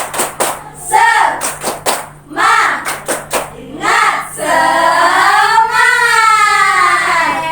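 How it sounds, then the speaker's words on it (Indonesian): A class performs a rhythmic spirit clap, with crisp groups of hand claps alternating with voices chanting together in a room, ending in a long sung call. "Oke, kita tepuk semangat ya. Tepuk semangat."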